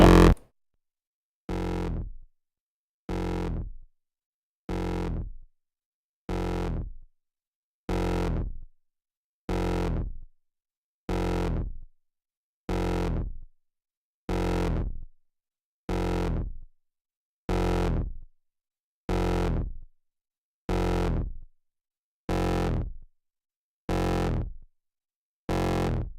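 A distorted hardstyle kick drum hits alone in a steady, evenly spaced sequence, each loud punchy thump followed by a short distorted tail and brief silence.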